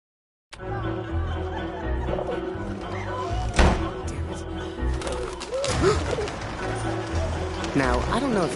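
A bird coos in the 11-11 Memories Retold video game, soft cooing calls repeating through the scene under ongoing talk and occasional laughter.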